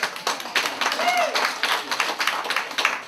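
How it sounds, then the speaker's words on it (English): Comedy club crowd claps along in a rhythmic, fairly loud burst of applause with a few cheers at a live stand-up show, sustained through the whole moment. "And I think everyone should clap with them."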